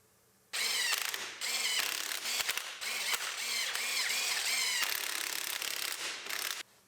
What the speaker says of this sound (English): Put all of our bolts back in.